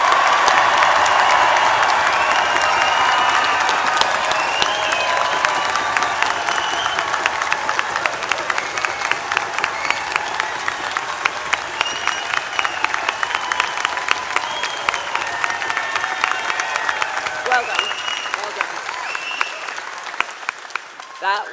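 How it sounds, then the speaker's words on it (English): A graduation ceremony crowd gives rousing applause for the graduating class at a university, loud and sustained with some cheering and voices early on, the clapping thinning toward the end. "let's hear one final rousing round of applause for the graduating class of 2024."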